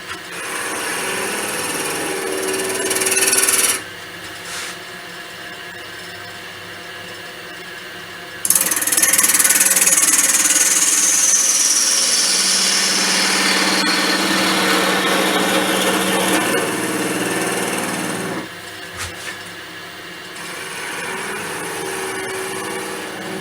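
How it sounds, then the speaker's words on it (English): Wood lathe spindle turning an off-centre goblet, with loud sustained rushing and scraping as the tool cuts into the spinning wood. Quieter motor hum sits between the cutting passes, and nobody speaks. "So it's pretty much like most spindle turning"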